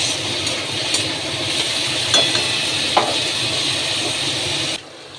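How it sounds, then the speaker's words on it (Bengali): Vegetables frying in white cooking oil with chopped garlic and ginger in a wok, a steady close sizzle with occasional stirring scrapes, cutting off abruptly near the end. "সাদা তেলের মধ্যে একটু রসুন আদা কুচি দিয়ে আমি সবজিগুলো ভাজতে দিয়েছি।"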